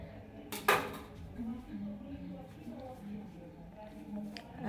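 A knife cuts mandazi dough into shapes on a hard surface, giving faint scattered taps and scrapes with one sharper clatter near the start, under a quiet kitchen background.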